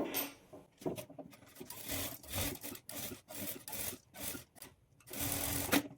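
A sewing machine stitches folded blouse fabric for a scalloped boat-neck design, running in quick stop-start bursts of rapid mechanical whirring and needle chatter, close and fairly loud with no talk.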